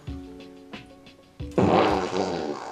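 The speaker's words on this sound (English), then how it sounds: "I never understood why farts are so funny" A fart sounds as a run of short, low, sputtering pulses, then swells into a long, loud, rasping blast that trails off.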